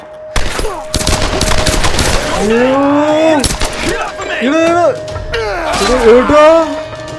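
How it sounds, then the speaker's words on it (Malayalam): Rapid bursts of gunfire in the Tomb Raider video game, sharp cracks clustered in the first couple of seconds, then a voice talking excitedly over quieter game sounds. "വെടിയൊക്കെ സൗണ്ട് ചെയ്യുന്നില്ലേ"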